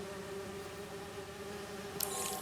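A steady insect-like buzzing drone of bees fills the scene in the Spider-Man 2 video game, holding a constant pitch at moderate level with no talk, and a brief brighter hiss near the end.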